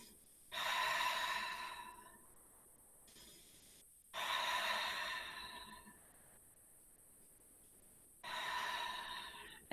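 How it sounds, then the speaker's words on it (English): Deep breaths during a yoga side-neck stretch come close and clear: three long, airy inhales or exhales, each lasting about two seconds, separated by quiet pauses. "Breathing."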